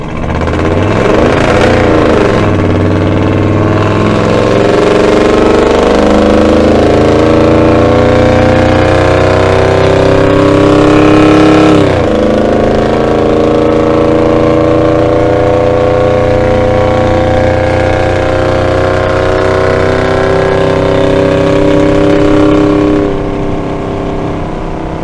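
A car engine fitted with Holley Sniper EFI revs up loudly during an acceleration run, pitch climbing through a gear, briefly dropping at a shift, then rising again in a long, close, sustained roar.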